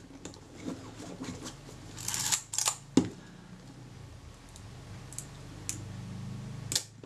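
Mechanical clicks and a sharp snap from a Kodak Retina IIIc camera's film advance and shutter release mechanism under repair, a few close, distinct clicks scattered over quiet room noise with no talking.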